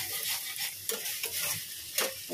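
Poppy seeds stir-fry dry in a pan with a nigella seed tempering, giving a soft, steady sizzle broken by repeated scraping strokes of a spatula, heard up close with no talking.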